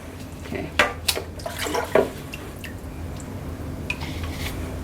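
Water is poured through sphagnum-type moss to wet a repotted orchid, producing a few brief splashes and soft trickles over a quiet, faint background.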